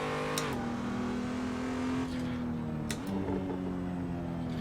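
A racing car in the Assetto Corsa driving simulator drones at steady revs, with its pitch dipping at gear changes and a few sharp exhaust crackles popping out briefly.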